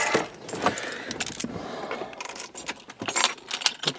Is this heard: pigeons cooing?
no